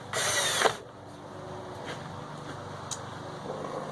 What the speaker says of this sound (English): We'll grab our drill here.